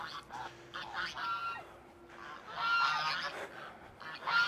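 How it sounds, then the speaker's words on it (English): Geese honk loudly on a farm in Chatsworth, with repeated harsh calls arriving in overlapping bursts across the whole stretch, set against outdoor background noise. "Some geese."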